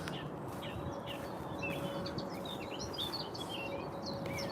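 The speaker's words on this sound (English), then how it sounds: "Listening to the birds, it's beautiful." Birds chirping outdoors along a walking path, scattered short tweets and calls at moderate distance over a soft steady ambient hiss, with no talking.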